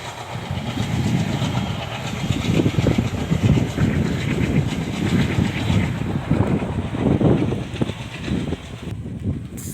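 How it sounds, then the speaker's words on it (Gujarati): A passing train rumbles continuously and loudly nearby with rhythmic clattering of wheels over the tracks, heard outdoors near a farm, steady throughout without talk. "અહીંયા જુઓ ટ્રેન નીકળી છે તે"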